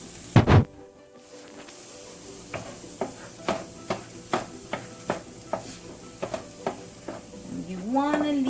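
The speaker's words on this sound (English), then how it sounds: "Gonna stir your pot after you've had that stuff frying there for a little bit." Sliced nopales cactus frying in a pot, stirred with a utensil that knocks against the pan in a regular series of about a dozen sharp taps over a soft sizzle, with a voice briefly at the end.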